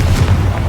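A Confringo fire spell blast in Hogwarts Legacy, heard as a short, heavy low boom that fills the whole moment without any talk.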